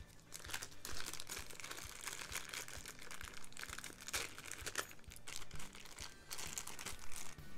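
Plastic baggie from a Subaru coolant balance kit crinkling steadily as small parts are pulled out, close and quiet, with soft clicks of the parts.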